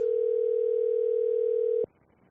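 An outgoing phone call gives a single steady electronic tone that holds for almost two seconds, then cuts off abruptly into near silence.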